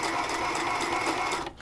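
A sewing machine stitches doll clothes fabric in a steady, close, continuous run that stops abruptly near the end, with no talking.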